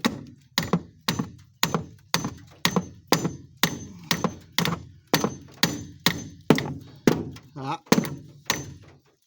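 A hammer strikes the hood of a 2006 Chevy Equinox to loosen a windshield wiper arm, giving about sixteen loud, evenly spaced metallic thunks, each ringing briefly before the next.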